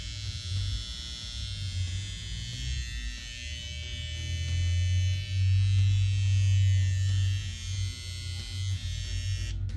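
A Stylecraft Saber electric hair trimmer runs continuously with a low, steady motor hum and soft buzz, quiet and close, swelling slightly louder midway, with no talk.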